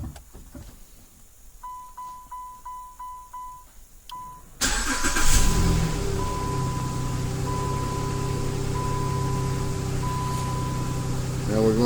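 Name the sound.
Chrysler Dodge Jeep engine starting via remote start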